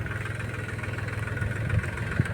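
A tractor engine running at a steady, low rhythmic chug near a farm field, close and continuous with a slight rise toward the end.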